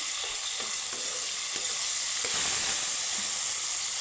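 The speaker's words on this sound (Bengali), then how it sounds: "তো একটু নাড়ে চেপে ভেজে নেবো" Tomato being stirred, pressed and fried in a pan, a steady bright hissing sizzle held at an even level from start to finish, close and unbroken by talk.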